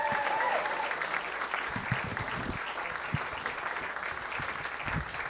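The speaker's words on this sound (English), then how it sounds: "Would you please give a big round of applause right now for Marilyn Pittman?" Comedy club audience at the Purple Onion breaks into applause, a moderate wash of clapping with a few louder individual claps standing out, continuing for several seconds.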